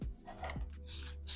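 A nail file rasps across a bitten fingernail, its corners chewed down, in a few short, close strokes with a dry scratching texture, quiet and alone.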